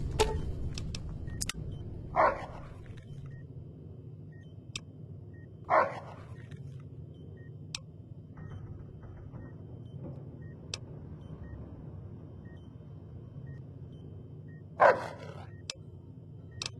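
A guard dog in the video game Fallout: New Vegas gives three separate single barks spaced several seconds apart, set against a quiet low background rumble with faint clicks.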